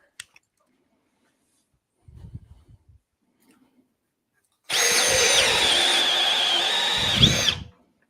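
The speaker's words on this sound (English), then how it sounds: "The Dewalt stalled on that one. Could be it hit a knot." A DeWalt 12V drill drives into wood, preceded by a few faint clicks and handling knocks, then runs loud and steady for about three seconds before bogging down and stalling abruptly.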